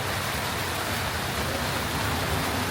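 Steady rain pours down during a night stop outside a 7-Eleven in Laos, a dense, even hiss that holds at the same loudness throughout with no voices.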